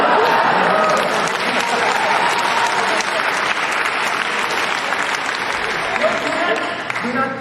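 Loud, dense audience applause and crowd noise fill a university lecture hall, continuing steadily with a voice talking over it.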